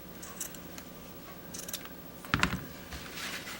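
Scissors snipping shirt fabric for a DIY bow shirt, a few quiet, short crisp cuts scattered through a hushed room, with a brief cluster of louder snips near the middle.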